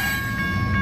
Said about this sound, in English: There's another freight train.